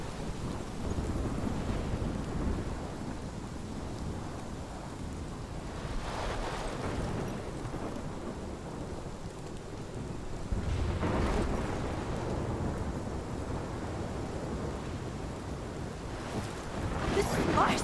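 A thunderstorm in the video game Life is Strange brings a constant roar of wind and rain, with low thunder swelling several times, heavy and enveloping, and no voices.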